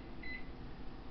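A kitchen timer or microwave beeps once, a short high tone over steady low room hum, fairly faint, with no talking.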